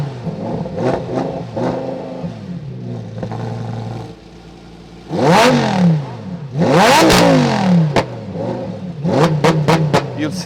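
A Lamborghini Huracan STO fitted with a titanium Akrapovic exhaust idles, then revs hard in loud, sharp blips that climb and fall, several big surges separated by a lumpy idle and crackles, heard up close.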